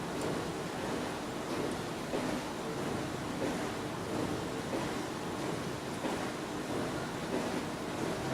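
Home-brewed beer pours from a keg tap pushed by CO2 running at too much pressure, giving a steady, loud, broadband hiss and rush of gas and liquid that holds without break for several seconds, with no voices.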